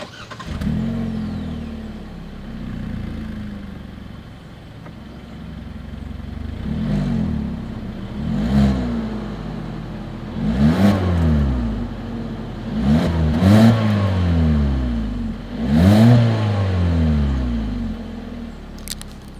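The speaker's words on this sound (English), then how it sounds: "As always, here is that exhaust clip." A 2021 Hyundai Kona with a single exhaust outlet is revved up close, its engine rising and falling in about six separate throttle blips after a short idle.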